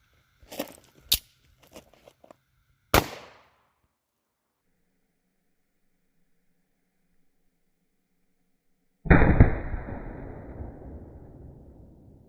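A 9mm pistol fired into ballistic gel with the muzzle held close: a few sharp handling clicks and a crisp snap, a long silence, then one loud, sharp shot that rings and decays over several seconds.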